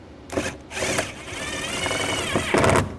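A power drill drives screws into the door of a 1999-2006 Chevrolet Silverado during a weatherstrip seal install, giving a few short whirring bursts close by, with a longer run near the end.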